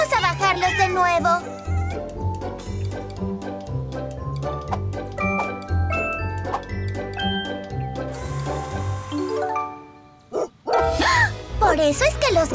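A cartoon dog chasing cats barks in quick clusters at the start and again at the end, loud over cheerful background music.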